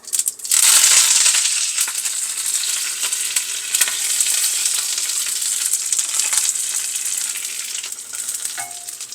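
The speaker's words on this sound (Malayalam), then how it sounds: "എണ്ണ ചൂടാകുന്നുടനെ നമുക്ക് കടുകിടാം" Steady crackling sizzle of mustard seeds spluttering in hot oil, close and continuous, with occasional sharper pops throughout.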